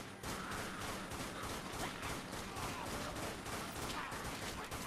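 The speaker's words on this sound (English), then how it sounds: "We can shoot some of these guys through the fence." Dense, continuous gunfire in the zombie shooter Dead Nation, fired through a fence at a horde, a loud unbroken rattle of overlapping shots with no speech.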